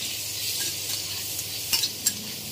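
Raw onions frying in oil, giving a steady soft sizzle with a few faint stirring clinks.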